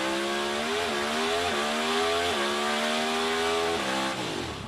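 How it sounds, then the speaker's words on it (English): An NHRA Pro Stock drag racing car engine screams through a run, a loud, high-revving wail that steps up through several sharp gear changes before fading slightly at the end, without talk. "That is an engine spitting the bit."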